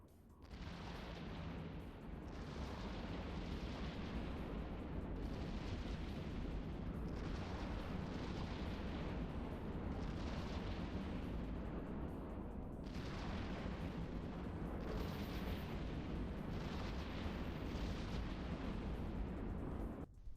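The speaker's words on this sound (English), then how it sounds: "You can see his rockets incoming but never actually reaching" Rockets fire and burst in a solo PvP space combat game, a steady rumbling roar with repeated swelling booms and blasts, loud and continuous with no talk over it.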